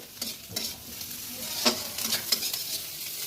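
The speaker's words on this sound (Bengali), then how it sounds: "পেঁয়াজটাকে বেশি লাল করবো না, হালকা 2 মিনিট ভাজবো।" Onion frying lightly over medium heat in hot oil, with a steady sizzle and several scraping stirs of a spoon against the pan, close up and with no talking.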